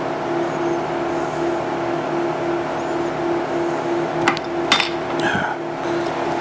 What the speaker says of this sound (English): I'm going to drill these down a little bit.